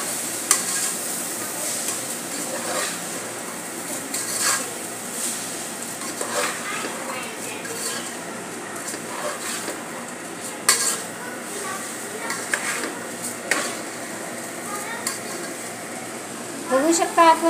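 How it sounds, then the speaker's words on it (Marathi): Masala and rice stirred and sautéed in a pan, giving a steady soft sizzle with repeated scraping and clinking of a spoon against the pan, close by. "चांगले परतून घेऊया।"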